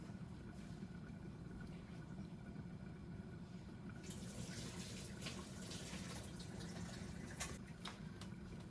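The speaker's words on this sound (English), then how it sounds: "Now go ahead and strain the pasta using a colander or a sieve." Hot pasta water pours through a colander into a sink, a steady rushing splash that grows noticeably louder and brighter about halfway through and continues to the end, with no talking.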